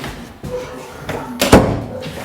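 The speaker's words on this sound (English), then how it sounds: "I'm going to go in the back of the house here through this door." A door at the back of a house opened and shut, a few close thumps and a sharp knock-like bang, with some rustling and a voice in the background.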